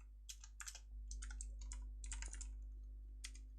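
Code being typed on a computer keyboard: quick clusters of crisp key clicks in short bursts with brief pauses, close and fairly quiet over a steady low hum.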